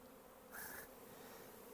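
Honeybee swarm returning and converging on one spot during a swarm capture outdoors, a steady broad insect drone throughout with a brief louder, higher whine swelling up near the middle.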